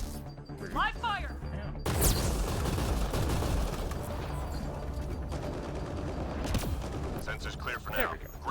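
Gunfire in Mass Effect Andromeda multiplayer during an Earth Day event: dense bursts of shooting and mechanical clatter over a steady game din, with players talking.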